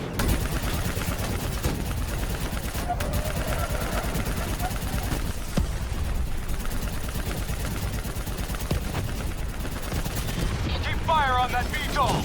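Turret machine gun in the Black Ops 3 video game firing steady, dense bursts, loud and continuous, mixed with vehicle engine rumble and battle noise, with brief shouted voices.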